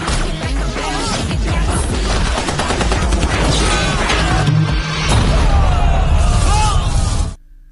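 Dense, loud bursts of rapid gunfire in a film scene, continuous and chaotic with crashes and shattering mixed in, cutting off abruptly near the end.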